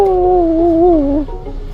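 A person imitates dog noises while playing a video game, a single long, wavering howl-like whine that slides down in pitch and fades at the end, loud and close.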